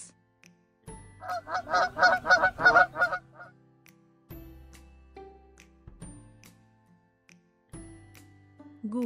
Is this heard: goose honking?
yes